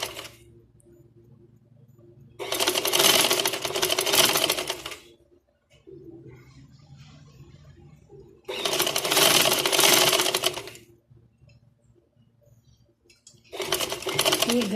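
A sewing machine stitches lace onto a curved neckline in three loud bursts of running, separated by quieter pauses with a low hum and faint background sounds.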